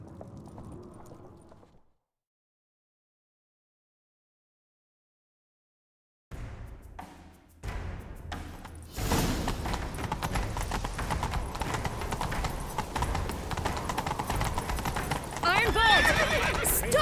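Horses gallop with rapid clip-clop hoofbeats and a neigh in The Witcher 3, coming in after a silent gap and running loud and continuous under character dialogue and game sounds.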